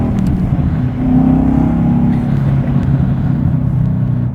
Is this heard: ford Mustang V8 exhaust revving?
yes